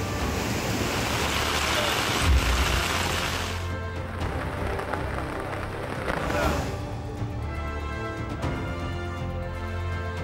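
Heavy monsoon downpour lashing the Konkan coast in news footage, a dense close roar of rain mixed with gusting wind that rumbles, eases briefly, then surges again.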